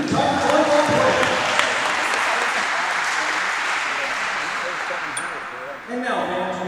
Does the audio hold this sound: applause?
yes